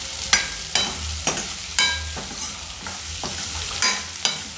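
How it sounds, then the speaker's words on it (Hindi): Soybean Manchurian shallow-fries in a pan under a constant sizzle. A spoon stirs it in regular scraping strokes about every half second, close and clear, with no voices. "फ्राई कर लेते हैं, सेलो फ्राई, हल्का सा सब पक जाए"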